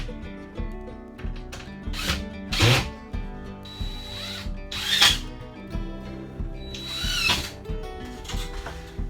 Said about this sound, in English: Now I put a few more screws in.